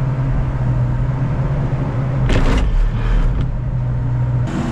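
Skid steer working gravel backfill against a home foundation, a loud, steady diesel engine drone close by, with a brief harsher surge of revving and rattling midway.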